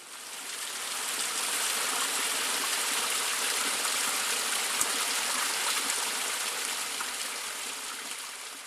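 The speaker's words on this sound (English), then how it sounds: "It starts with a trickle and slowly builds to a river." A mountain stream flows continuously, a steady rushing babble of water that swells in at the start and holds evenly throughout, with no voices.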